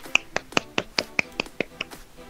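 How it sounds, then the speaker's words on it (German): Bare hands clap about ten times in a steady, even rhythm, each sharp and close with nothing else in between. "Ich hab grad geklatscht."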